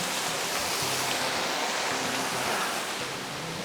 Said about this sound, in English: I'm going to explore this waterfall